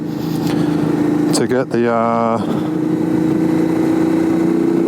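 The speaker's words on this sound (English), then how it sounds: "bike out and see what the exhaust sounds like" A Suzuki V-Strom 650 fitted with a Delkevic aftermarket exhaust idles close and loud with a steady low drone, briefly blipping the throttle into a rising rev before settling back to idle; a voice speaks briefly over it.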